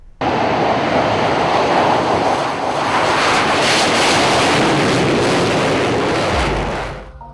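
An Indian Air Force Sukhoi supersonic jet roars past, a loud, dense, sustained broadband rush that fills the whole stretch before cutting off near the end.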